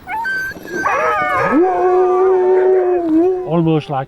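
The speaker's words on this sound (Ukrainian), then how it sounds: "Їх звуть важкі гренландські вовки." Greenland sled dogs howl close by, several voices rising into a long sustained wail with overlapping higher yips and whimpers, then breaking into short wavering cries at the end.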